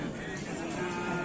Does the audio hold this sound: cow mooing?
yes